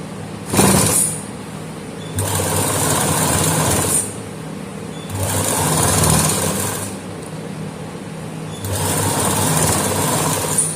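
Sewing machine running a straight seam along a back neckline facing, in four separate bursts of steady motorized stitching with short quiet pauses between, close and fairly loud, no voices.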